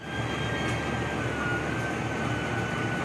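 The Kahuripan passenger train, running with K3 economy coaches, sets up a steady, even rumble of wheels and carriage noise throughout, heard from inside as the train travels.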